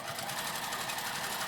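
A sewing machine stitches a thin Seria twill tape shoulder strap, its motor whirring in a steady, fast, close-up rhythm with no pauses and no voices.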